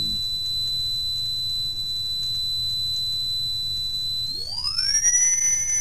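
A thin, steady 4000 Hz electronic test tone sounds alone, then bends and glides upward near the end as other tones slide in.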